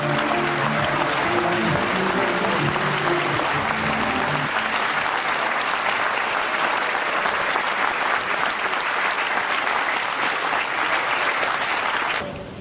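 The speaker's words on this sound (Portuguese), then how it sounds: "Uma grande salva de palmas para o Dr." Sustained applause from a large audience at a political rally in the Constantino Nery theatre, welcoming Luís Marques Mendes; dense, steady clapping for about twelve seconds that fades slightly at the very end.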